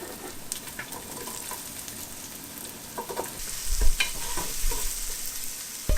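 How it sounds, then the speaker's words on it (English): Diced onions for chili frying in an oiled pan over medium-high heat, a continuous crackling sizzle with a few scraping stirs and knocks growing busier toward the end, without speech. "Cook up the onions for 5 minutes, just till they start to golden up."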